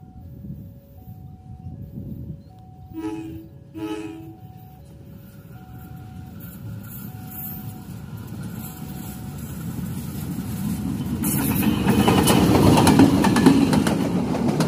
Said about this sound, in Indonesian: itu dia kereta api Motis Selatan sudah melintas